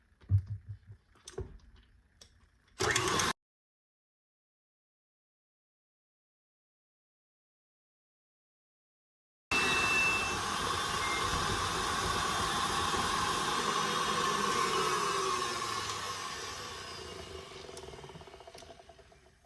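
An electric mixer beats peanut butter cookie dough in a bowl, running loud and steady for about ten seconds after a brief start-stop burst and a stretch of silence, with a continuous whirring drone.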